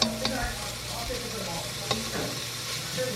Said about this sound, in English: now we're going to let this bacon fry up until it's crispy